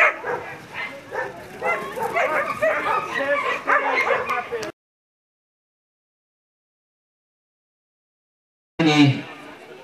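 Whippets bark and yip at a dog race final, dense excited barking mixed with an announcer's commentary, then silence before a short burst of barking returns.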